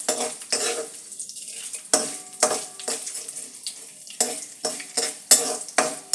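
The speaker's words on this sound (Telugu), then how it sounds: "నేను ఈవేళ మాత్రం వేరుశనగ నూనె పోపు పెడతానండి." Whole spices temper in peanut oil for a brinjal pulusu, giving a continuous close sizzle broken by a string of sharp, rhythmic scrapes and clinks as a spoon stirs the pan.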